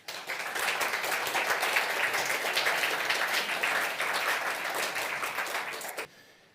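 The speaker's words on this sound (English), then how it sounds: "But let us give a big round of applause to Jardar and Janis." Audience members at a panel discussion give the speakers a big round of applause, dense and even for about six seconds before stopping abruptly.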